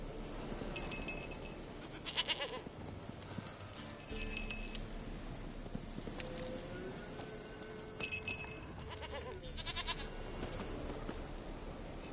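A goat in The Witcher 3: Wild Hunt bleats several times in short, nasal bursts over a steady low background hum, with faint clopping and jangling in between.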